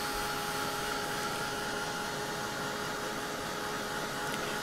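A heat tool blows steadily over white paint dots to dry them, giving a constant, fairly faint airy whir with a thin tonal hum and no variation throughout, no voices.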